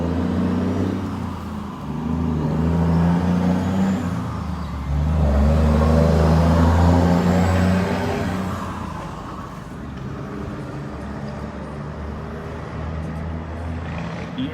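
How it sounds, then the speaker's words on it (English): A truck passes on a road during a police patrol, a loud low engine rumble that swells and fades twice over about fourteen seconds, with no talking. "Waiting for that truck to go by."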